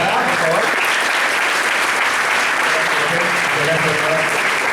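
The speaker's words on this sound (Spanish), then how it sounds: "quería primero, digamos, que dé un aplauso a la profesora de Prada, por favor" An audience claps steadily for a professor at a university lecture on the new civil and commercial code, a dense, even round of applause that fills the room and continues throughout.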